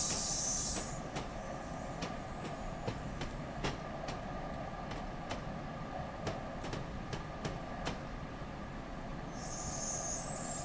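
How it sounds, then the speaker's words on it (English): Train Simulator game audio of a French high-speed train on the LGV Rhône-Alpes and Méditerranée line: a steady rolling drone with a series of sharp, evenly spaced track-joint clicks passing beneath, and a hiss at the start and end. "Oh, those track joint sounds."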